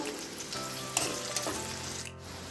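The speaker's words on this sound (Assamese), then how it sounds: "নহৰু আৰু পিঁয়াজখিনি ভাজ খাই গ'ল।" Garlic and onion fry in a pan with chillies, giving a steady, close sizzle with a couple of stirring knocks and no voices.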